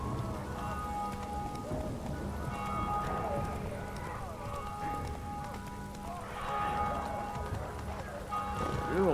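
Roach, a horse in The Witcher 3, gallops across rough terrain with steady clip-clop hoofbeats under continuous game ambience and rain-like noise, while someone talks over it.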